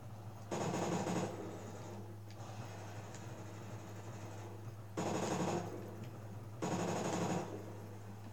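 Machine gun fire in Call of Duty Ghosts on Xbox comes in three loud sustained bursts, separated by a quieter continuous game background hum.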